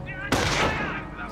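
Gunfire from the World War II strategy game Company of Heroes sounds as a single sharp, close shot followed by a decaying burst of battle noise.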